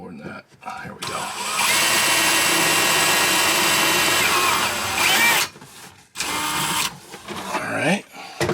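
A power drill bores a pilot hole into wood, a loud steady whine lasting several seconds, then shorter bursts after a brief pause, heard up close.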